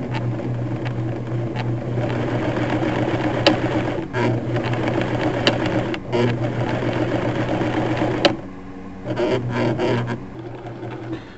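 An old sewing machine runs steadily with a humming mechanical drone and fast rhythmic stitching clatter, pausing briefly near the end and then starting up again in short bursts.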